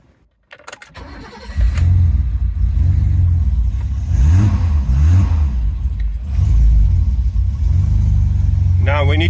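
A car engine idling and then running steadily under load during an exhaust back pressure check, a loud, low continuous drone with brief rises in revs, close by.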